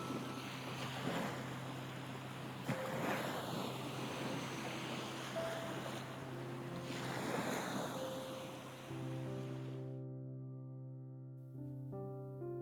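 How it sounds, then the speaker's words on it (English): Swirling ocean water churns in a vortex near the Greenland shore, a steady, broad wash of surf and rushing water with wind, loud and continuous, fading at the end into low, sustained tonal hum. "When you stand near the water, the swirling sound feels precise and powerful, as if a natural mechanism is working beneath you."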